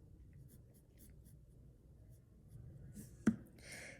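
A pencil scratches lines onto paper while sketching basic body proportions, a faint soft scraping with a few short strokes and one sharper tap near the end, with no talking.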